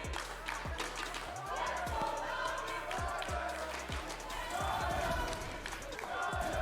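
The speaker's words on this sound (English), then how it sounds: "Cheering on both sides of the Coliseum." A packed esports arena crowd at a VCT EMEA Valorant match roars continuously, with rhythmic low thumps of banging thundersticks pounding through the steady cheering.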